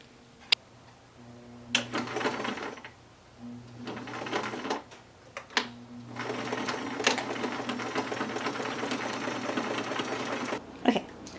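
A sewing machine runs in stop-start stretches while stitching a dress's sleeve and cuff seams, whirring and ticking at close range, with short pauses, a few clicks and handling noises between runs.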